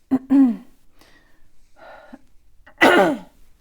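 Three close coughs, two harsh bursts around a smaller throaty one, separated by brief quiet pauses.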